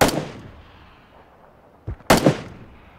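Gunshots in PlayerUnknown's Battlegrounds: a loud crack at the start fading away, then after a quiet stretch a short burst of two or three sharp reports close together.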